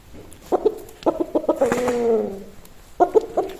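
A healthy, strong rooster outdoors gives a series of loud, close clucks in short bursts, with one longer drawn-out call in the middle.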